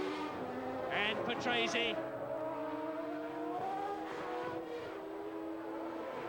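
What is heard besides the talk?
Formula One race cars passing, 1991 Brazilian Grand Prix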